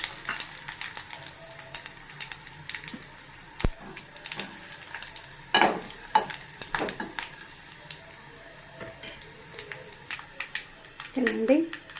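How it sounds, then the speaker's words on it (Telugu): Tempering spices crackle and sizzle in a hot pan of oil for Andhra-style gongura pickle, the frying heard as quiet, scattered pops and short bursts of spitting rather than a steady roar. "ఇప్పుడు మనం పోపు దినుసులను యాడ్ చేద్దాం."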